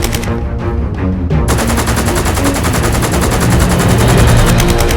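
Dense gunfire sound effects from a Lego war animation, with rapid machine-gun bursts and overlapping shots forming a loud, continuous barrage throughout.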